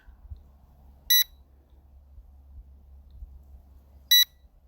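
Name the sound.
L200 Pro Max drone beeping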